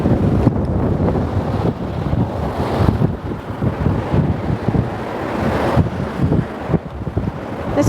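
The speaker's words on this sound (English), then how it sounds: "It's really windy all around the city, and we're by the coast" Strong wind on the Wellington coast in New Zealand, loud gusts buffeting the microphone in heavy rumbling bursts that rise and fall, with the wash of sea beneath.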